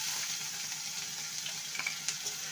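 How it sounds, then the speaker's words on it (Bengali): Ginger and green chili paste fries in a pan for a potato and parwal curry, giving a soft, steady sizzle that stays faint and even, with a few light clicks near the end. "ভালো করে কষিয়ে নেব আদা আর কাঁচা লঙ্কাকে"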